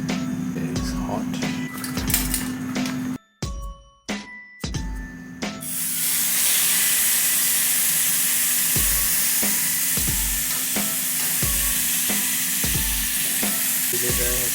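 Seasoned rib eye and sirloin steak is laid into hot oil in a pan, and a loud, steady sizzle and spatter takes over after a few seconds of clattering and brief pauses, with soft taps underneath.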